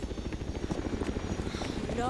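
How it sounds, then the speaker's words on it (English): Helicopter flying overhead in the zombie game Dead Island 2, a steady rotor thrum holding at even loudness throughout under game noise and speech. "What is that helicopter?"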